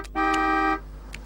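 A cartoon bus sounds one loud, sustained horn honk of about half a second, then brief faint noises trail after it.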